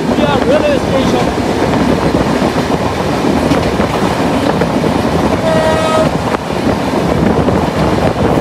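Aboard the Rupsha Express from Khulna, the train rushes through Rukia railway station at speed with a loud, steady roar and rattling wheels, a short horn blast sounding partway through.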